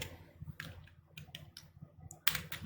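A few scattered keystrokes on a computer keyboard while C++ code is typed, close and quiet, with irregular clicks over a faint low hum.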